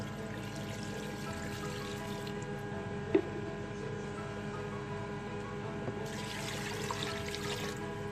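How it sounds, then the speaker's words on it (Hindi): Water is poured into a cooking pot of bong ka salan, a yakhni-style beef shank curry with turmeric, salt, onion, garlic and a spice bundle. A soft, steady pour runs low under a constant kitchen hum, with one brief clink partway through. "इसमें पानी ऐड कर देंगे"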